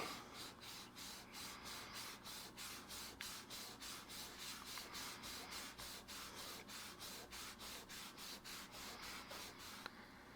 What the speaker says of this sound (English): test spot there. That's Dawn. Let's see how it cleans the mat.